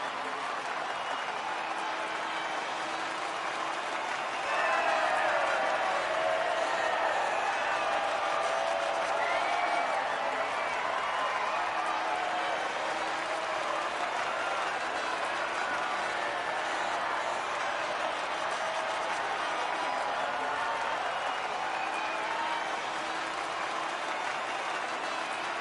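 A crowd cheers and applauds at the Formula 1 Azerbaijan Grand Prix podium, a broad, distant wash of clapping and cheering that swells after a few seconds and holds steady throughout.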